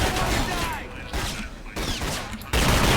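Gunfire in The Chronicles of Riddick: Escape from Butcher Bay, with several loud close shots and bursts in quick succession over game sounds, separated by brief lulls.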